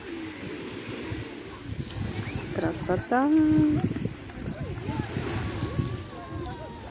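Evening sea waves wash onto the shore at Berdyansk in a steady, wind-blown surf under voices talking nearby.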